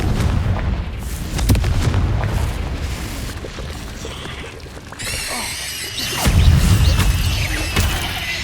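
Confringo blasting spell explosions in the Hogwarts Legacy video game, a string of booming blasts and crashes with a bright crackling burst near the middle, loud and close amid continuous combat noise.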